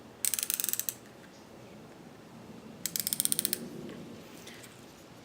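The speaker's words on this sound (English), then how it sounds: "The dial has about 27 clicks in it, so 27 being the heaviest" A Lew's Laser MG fishing reel's drag dial being turned, giving two quick runs of crisp ratcheting clicks, about eight or nine each, separated by a pause and close to the ear.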